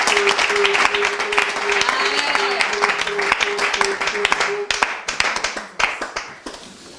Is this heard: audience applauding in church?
yes